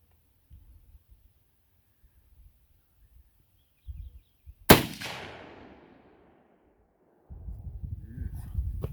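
A single sharp rifle shot cracks from a sporterized Lee Enfield No. 4 Mk 1 in .303 British, loud and close, with a ringing decay trailing for a second amid quiet outdoor background and light handling noise.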